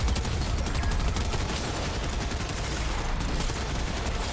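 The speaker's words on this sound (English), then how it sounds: "I shot that man in the feet" Video game gunfire rattles continuously in dense, rapid bursts, a loud, unbroken stream of shots with no talk over it.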